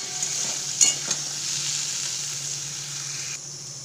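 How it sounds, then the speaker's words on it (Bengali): Prawns fry in hot oil in a wok, a close, loud, steady sizzle with a couple of sharp stirring clinks early on, no voices. "হালকা করে চিংড়ি মাছটা ভেজে নেব।"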